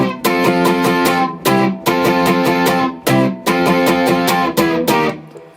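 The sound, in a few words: guitar playing the intro of a song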